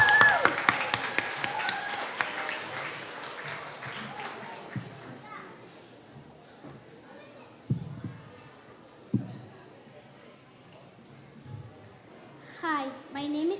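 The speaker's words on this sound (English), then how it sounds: "Let's give a huge round of applause to Itzy and show her some love as she takes the stage." A live audience at the CanU Family Festival cheers and applauds as a speaker takes the stage. It is loud and dense at first, then thins into scattered claps and a few isolated bangs, with children's voices mixed in.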